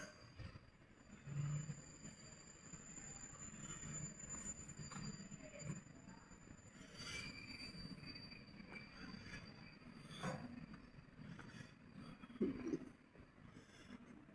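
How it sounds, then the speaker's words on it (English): A train rolls past near Schaerbeek, Belgium, with a steady low rumble of wagons and a faint high squeal from the wheels, loud and close throughout with no talking. "Oh, no, this train's gonna block my way."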